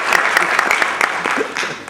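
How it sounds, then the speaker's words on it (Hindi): Audience applause at a mushaira, an Urdu poetry gathering, held by an alumni association in Atlanta: a steady wash of many hands clapping, fairly close and dense, thinning slightly toward the end, with a voice briefly heard over it. "आप लोग तालियां बजा सकते हैं।"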